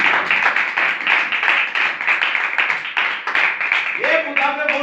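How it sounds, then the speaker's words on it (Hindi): A church congregation claps loudly and steadily, many hands in a dense rhythmic patter, with a sustained voice or tone rising over the final second. "मुकद्दस हनूक के लिए एक बार जोरदार तालियां।"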